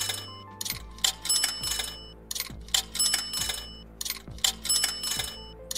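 Livestream tip notification chimes play repeatedly, bright electronic bell-like tones in quick bursts with a regular rhythm, close and clear, with no voices.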